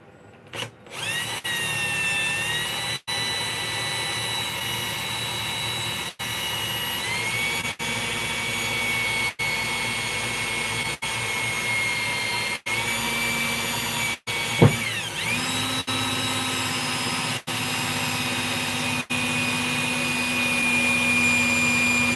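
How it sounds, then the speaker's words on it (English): A power drill boring a hole in the metal heatsink of a Cobra 2000 GTL CB radio, a steady high whine that stops and restarts in repeated short bursts, close and loud. "why I'm drilling a hole in the heatsink"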